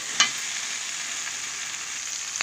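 Pieces of Srikakulam fish fry in oil, giving a constant, even sizzle with a sharp pop at the start and another near the end, no talking.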